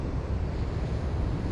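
Sea waves off the coast at Usan, a steady, broad wash of surf with wind buffeting the microphone, loud and continuous without clear separate breaks.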